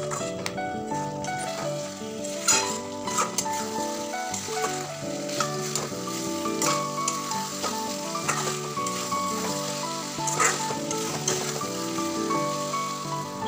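Chicken pieces frying in hot oil with a spoonful of secret masala, steady sizzling close up with occasional spoon scrapes and stirring knocks against the pan, no voices.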